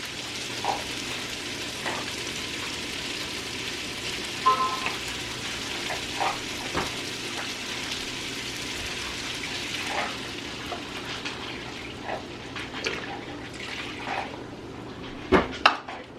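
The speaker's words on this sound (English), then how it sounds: "Now we need to add the broth, which is 2 cups, low sodium." Low-sodium broth poured into a hot pan, a steady wet sizzle and bubbling hiss running throughout with occasional soft clinks of utensil against cookware, close and moderately loud, with no voices.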